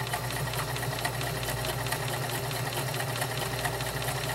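A vintage Kenmore convertible sewing machine, model 1946, fitted with a size 16 needle, stitches through five layers of denim at moderate speed, a steady rapid mechanical chatter and whir heard close up with no voice.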